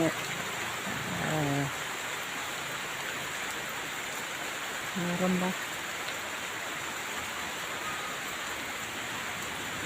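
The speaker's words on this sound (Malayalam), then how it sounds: "മഴയുടെ ശബ്ദം" Constant rain hiss fills the scene, with a couple of brief voices faintly audible over it.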